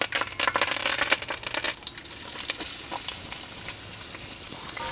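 Onion pieces with mustard seeds, cumin and curry leaves frying in hot oil for a stuffed tomato curry, a dense, steady crackling sizzle that is loudest at the start and then settles into a softer continuous fry.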